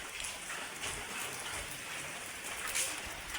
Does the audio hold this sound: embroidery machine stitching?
no